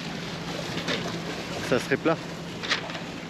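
Steady rushing wind and water noise aboard a sailboat moving under sail with engine assist in a choppy Caribbean passage toward Guadeloupe. It is a continuous, fairly loud roar with a person talking over it.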